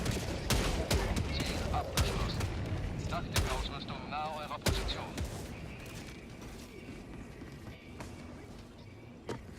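Rapid bursts of gunfire from the video game Helldivers 2, loud sharp shots in uneven volleys with scattered single cracks, continuing under people talking.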